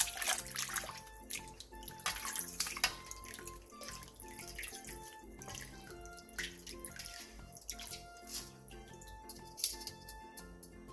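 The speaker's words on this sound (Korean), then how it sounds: "데친 도라지는 찬물에 헹군 뒤 물기를 충분히 빼놔주세요." Blanched bellflower root is rinsed in cold water under a running tap, with splashing, trickling and dripping in a sink, close and moderately quiet, with no voices.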